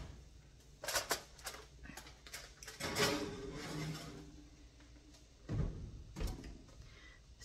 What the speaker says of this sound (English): We're just gonna put this in the oven.